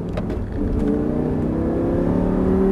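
Audi R8 engine pulling hard on the Abbeville race circuit, a steady loud drone that rises in pitch as the car accelerates, heard from close by with no talk.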